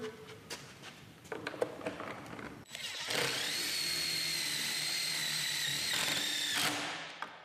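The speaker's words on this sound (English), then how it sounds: "we chuck it into a 3/8 inch driver and hold it up here" A 3/8 inch driver sinks a 2 inch screw into a wooden post while a beam bracket is attached, first some handling clicks, then a steady whirring drive lasting several seconds before stopping, close and loud.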